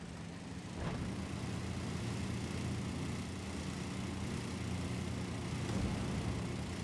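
A tank engine in a video game, a steady buzzing, lawnmower-like drone that holds at a constant moderate level throughout with no talk over it.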